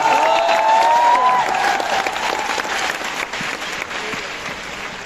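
Large crowd applauding in an auditorium at Tyagraj Stadium in New Delhi, dense continuous clapping that starts strong and gradually fades, with a tonal whistle or feedback-like note over the first second.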